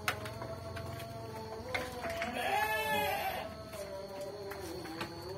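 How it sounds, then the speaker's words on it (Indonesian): Goats and sheep bleat at night in a pen, several drawn-out calls rising and falling, fairly close, with one louder wavering bleat in the middle over a steady background hum. "Lihat guys kambingnya, dombanya."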